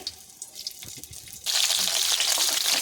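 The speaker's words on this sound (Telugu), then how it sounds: "నూనె కాగిపోయింది ఇప్పుడు మిరపకాయలు ఇలాగా ఒక్కోటి ఒక్కోటి ఇలా పెట్టుకోవాలి" Stuffed Ooty chillies go into hot oil for a chilli curry: a quiet stretch, then a sudden loud, steady sizzle that fills the rest.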